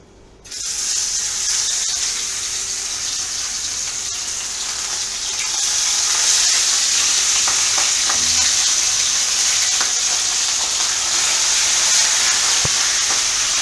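Barracuda frying in very hot oil, a steady loud sizzle and crackle that grows slightly stronger midway and runs continuously with no talking.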